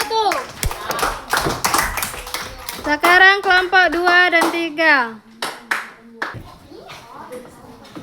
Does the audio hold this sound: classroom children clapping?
yes